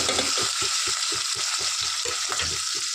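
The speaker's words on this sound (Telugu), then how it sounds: "ఉల్లిపాయలు, పచ్చిమిర్చి వేసేస్తున్నాము" Onions and green chillies sizzle and fry steadily in hot oil, with a rapid run of regular scraping stirs close by and no voices.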